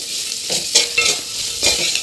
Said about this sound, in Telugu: కాకరకాయ అయితే ఇలా ఫ్రై కావాలి.